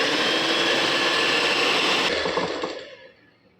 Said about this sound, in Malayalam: ഇനി നമുക്ക് അതൊന്ന് ബീറ്റ് ചെയ്തെടുക്കണം നല്ലോണം.